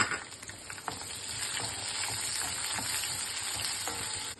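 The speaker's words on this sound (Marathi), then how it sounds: "लाल सुकी मिरची, 2 चमचे तीळ आणि कांदा टाकून परतवून घेत आहे।" Dry red chillies, sesame seeds, curry leaves and onion sauté in hot oil with a continuous close crackling sizzle, steady and moderately loud with light stirring scrapes.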